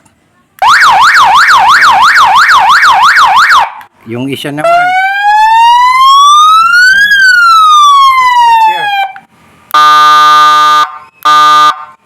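A loud electronic motorcycle siren for village watchmen cycles through several tones: a rapid warble, a rising and falling wail, then pulsing horn-like bursts, with a brief voice between.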